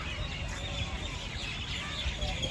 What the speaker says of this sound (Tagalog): Puro huni ng ibon. Kung maririnig mo.